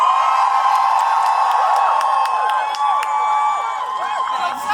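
A large street protest crowd outside the Supreme Court cheering and whooping for actress Annette Bening, a dense, loud, sustained roar of many voices with scattered high shouts.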